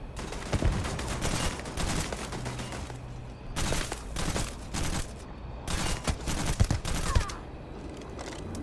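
Turret fire in the video game Starfield comes as repeated rapid bursts of gunfire, loud clusters of shots broken by short pauses, set against a steady background hum.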